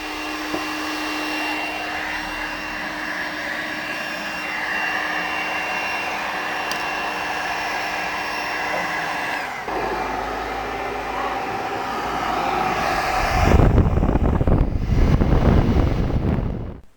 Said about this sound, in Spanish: utilizamos el blower para retirar todo el polvo